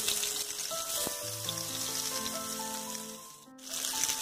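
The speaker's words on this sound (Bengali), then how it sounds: "এবারে এই বেগুনগুলোকে আমি ভাজবো।" Eggplant pieces hiss and sizzle in a tablespoon of hot oil in a pan on a gas burner, a steady close frying noise with a brief rise near the end, under soft background music.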